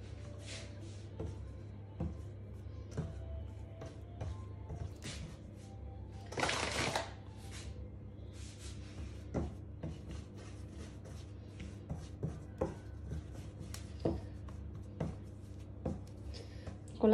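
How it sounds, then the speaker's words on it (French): Floured dough is worked by hand on a floured worktop, making soft, quiet patting and rubbing sounds in an irregular rhythm, with one brief louder scuffing burst partway through. "on va utiliser la farine pour travailler la pâte encore"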